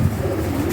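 Pigeons in a loft give a short, low coo, near and fairly loud, with no talk.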